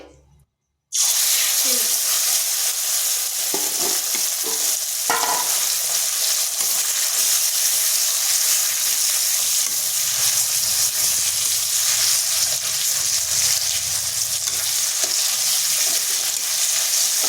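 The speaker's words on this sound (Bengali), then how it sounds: "সিমটা এইভাবে ভালোভাবে কষিয়ে নিচ্ছি।" Flat beans and two dried red chillies sauté in a pan over low heat with no water added, giving a steady, close sizzle with occasional stirring that starts abruptly after a moment of silence and continues unbroken.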